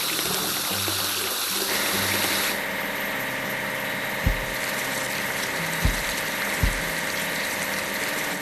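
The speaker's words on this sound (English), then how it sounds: "Now let's wash the grater." Water sprays steadily while a grader is washed in a construction vehicle game, with a low engine idling underneath and a few soft thumps partway through.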